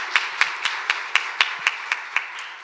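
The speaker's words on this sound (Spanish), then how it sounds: "Aplauso para el doctor Rómulo" A few people clap in slow, evenly spaced single claps for a lecturer at a talk on medicine, neuroscience and pedagogy, sparse and fairly close, about ten distinct claps.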